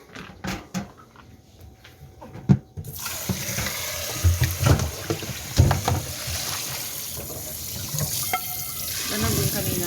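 Tap water runs steadily into a sink as boiled vegetables are rinsed, spinach and balloon flower roots among them, with splashing and handling over a continuous rushing flow and a person talking now and then.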